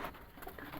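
Soft cooing from red-eyed Kasuri pigeons in a loft in Lahore, low and murmuring, faint and brief against background noise.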